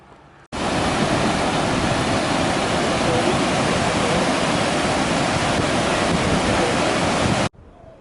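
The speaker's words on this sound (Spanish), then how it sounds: "Esto es el río Nazas." The Nazas river flows at the start of Fernández Canyon in Durango, a steady loud broadband rush of water that fills the scene evenly for about seven seconds before cutting off abruptly.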